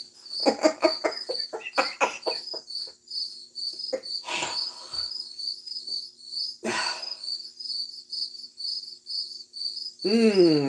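Crickets chirp in a steady, pulsing trill throughout, with a few clattering knocks early on and a brief rising whistle at the end.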